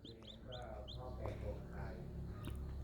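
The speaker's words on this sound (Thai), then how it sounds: "มีลูกเจี๊ยบอยู่ ห้าตัวนะครับ มีลูกเจี๊ยบอยู่ห้าตัว" Newly hatched chicks in a cardboard box incubator give repeated high, short peeping chirps in quick bursts, near and faint, over a low background hum.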